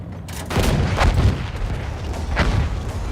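Several heavy booming cannon blasts in Battlefield 1 with crackling debris, roughly three distinct shots spaced about a second apart, loud and close amid battle noise.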